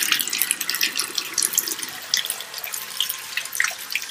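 Hot water runs steadily from a tap into a basin for an Epsom salt soak, a close, continuous splashing and gurgling stream.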